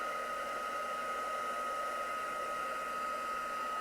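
Steady blowing hum from a heat tool melting embossing powder on a card, close and continuous with a faint high-pitched whine, no talking.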